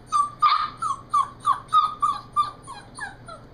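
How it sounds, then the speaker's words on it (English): A new puppy gives a series of about a dozen high, evenly spaced whining yelps and small barks, close and clear against a quiet room. "it's just Joel whining / barking"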